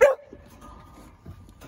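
A kennel dog gives a single short, sharp bark at the very start, close by, and then a faint whine and quiet rustling follow.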